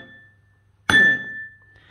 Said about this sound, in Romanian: după ce ați trecut lingura pe bordul paharului, o să-i dați 3 lovituri